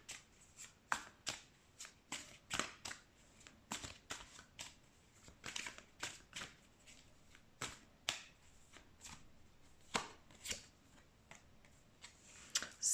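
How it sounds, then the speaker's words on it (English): Tarot cards being shuffled by hand, a quiet, close run of crisp riffling bursts and soft slaps repeating in an irregular rhythm, with no voices. "let's shuffle the tarot cards."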